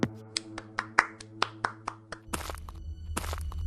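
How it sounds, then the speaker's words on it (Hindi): Slow, separate claps ring out with a long echo, as in an empty auditorium in a story sound effect, then thicker applause swells for the last second or so. "खाली पड़े ऑडिटोरियम में तालियों की आवाज की गड़गड़ाहट"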